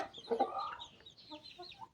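Chickens cluck at close range in a Thai poultry yard, a burst of throaty clucks followed by softer scattered calls and chirps, heard alone with no talking.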